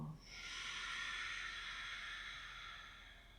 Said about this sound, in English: Exhale your air out.